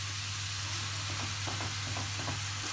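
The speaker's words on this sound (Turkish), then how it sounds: "Soğanı ile birlikte kıymayı kavuracağım." Minced meat and onion fry together in a pan, partly still frozen, giving a steady hiss and sizzle with a low constant hum underneath and no talk.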